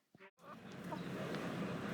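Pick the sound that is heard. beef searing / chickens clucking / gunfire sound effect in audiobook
chickens clucking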